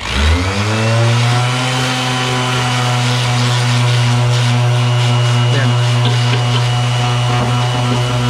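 A loud, steady power sander with 80-grit sandpaper drones continuously at close range in a BMW E36 engine bay, with a strong low hum and gritty scraping texture throughout.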